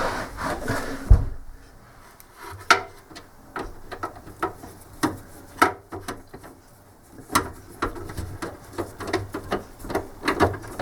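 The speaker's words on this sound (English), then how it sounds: "So just screw these into here." Screws driven by hand into a PC case make a string of sharp metallic clicks and ticks, irregular and close, with short quiet gaps between them.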